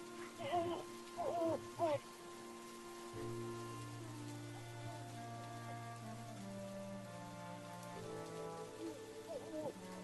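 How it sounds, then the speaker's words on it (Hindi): Heavy rain falls steadily on a stormy night under a spoken horror story, a soft continuous hiss beneath narration with a low droning tone. "लेकिन बारिश रुकने का नाम ही नहीं ले रही थी।"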